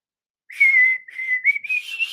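A single person whistles a short melodic line close by, a few sustained notes with slight bends, mimicking a guitar part.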